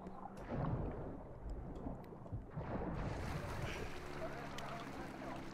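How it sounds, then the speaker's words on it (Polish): A boat's engine and water wash rumble steadily in the video game Call of Duty: Modern Warfare II, with gusty wind-like noise rising and falling throughout. "Dobra, ta łódź tu płynie."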